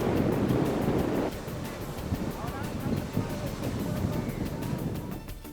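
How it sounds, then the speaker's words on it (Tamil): Huge surf breaking along an eroding coast amid heavy rain and strong wind, a dense continuous roar with gusty wind buffeting the microphone throughout. "கனமழையும் தொடரும் நிலையில் பலத்த காற்றுடன் வழக்கத்திற்கு மாறாக பேரலைகள்."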